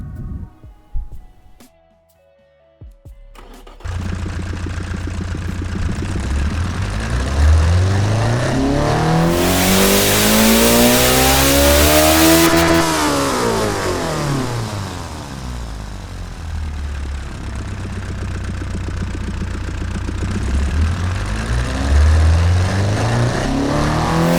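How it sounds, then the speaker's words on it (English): A 2.0-litre car engine in the game Automation revs up to a loud, rising roar, holds high, then drops and climbs again, sustained and close with no talking. "Oh wow, this engine sounds absolutely beautiful"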